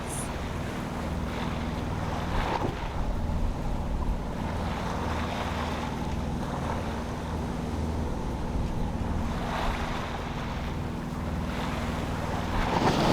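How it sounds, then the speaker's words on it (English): A sailboat motor sailing through ocean swell off Alaska's Baranof Island, with a steady low engine drone beneath continuous wind noise and the wash of waves against the hull, no voices. "we're motor sailing for now, easing into the rhythm of the swell"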